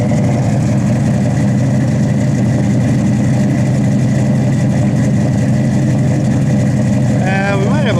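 1965 Ford Falcon Sprint engine idling steadily with a low, even rumble close by and a faint rising whine near the end; someone talks over it.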